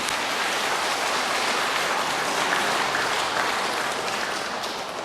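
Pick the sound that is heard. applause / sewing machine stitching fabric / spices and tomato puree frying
applause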